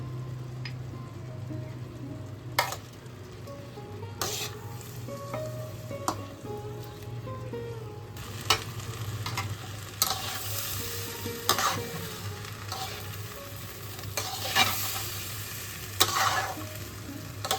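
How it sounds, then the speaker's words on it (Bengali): Rice and moong dal fry in a pan with turmeric and ginger paste for khichuri, a soft, continuous sizzle broken by repeated spoon stirs and scrapes at irregular intervals, with no voices. "এদিকে চাল আর ডালটা আমাদের খুব ভালোভাবে কষানো হয়ে গেছে"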